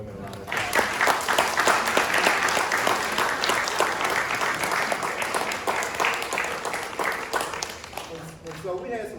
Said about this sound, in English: let's give these three amazing women a round of applause